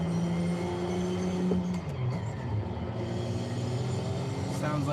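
A Nissan with a small turbo in Forza Horizon 5 drones with a steady, loud engine note that shifts pitch midway, under a constant rumble and with no pause.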